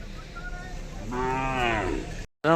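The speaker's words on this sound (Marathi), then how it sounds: "आणि इथे गावठी बैल देखील आहेत" A single village bull moos nearby, a drawn-out low call rising then fading, with faint background noise before it.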